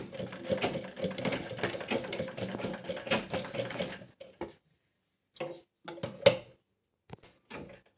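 A home sewing machine stitches fabric in a steady, rapid mechanical whir for about four seconds, then stops and gives a few short bursts with clicks, close and quiet.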